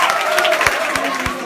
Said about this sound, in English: So I want to give you all a round of applause.